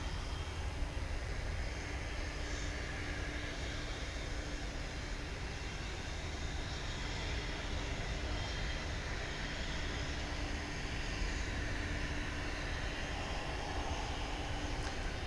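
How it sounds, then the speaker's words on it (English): A Turkish Airlines Boeing Dreamliner taking off from Dallas/Fort Worth airport gives a faint, distant, steady jet-engine roar that holds unchanged throughout, with no talking. "It's a Turkish Dreamliner headed back to Istanbul, flight 192."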